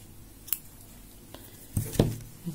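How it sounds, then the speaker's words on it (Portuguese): Scissors snip through crochet yarn while a crocheted bikini piece is being finished: a few short, close cutting clicks, the clearest pair arriving together near the end over quiet room tone. "vou cortar."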